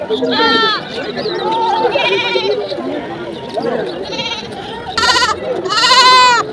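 Goats bleat loudly several times in short wavering calls, some overlapping, while people talk nearby.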